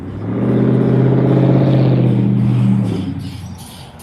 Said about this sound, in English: The truck is nice, though.